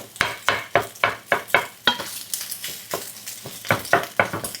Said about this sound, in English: Increase the heat to high. Then start breaking up the clumps.